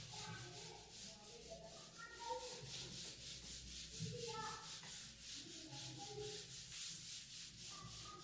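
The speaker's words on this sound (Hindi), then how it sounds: "रब कर रहा हूं इसको।" Steady, soft rubbing of an object against a surface, continuous scraping strokes running quietly throughout with no speech over it.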